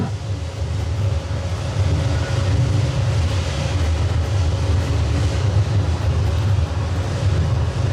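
Nemesis roller coaster train at Alton Towers running through its track toward the final inversion, a steady, fairly loud low rumble with broad wind-like noise held for the whole stretch, no voices.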